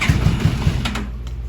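A 2005 Yamaha Royal Star motorcycle engine cranks and fires, giving a short burst of rapid low chugging pulses that settles into a rough hum, close and loud.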